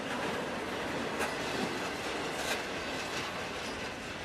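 Steady rumbling roar of a CSX freight train led by SD50-2 locomotives rolling on rails, with faint squeals and clatter from the wheels throughout, continuous and fairly loud.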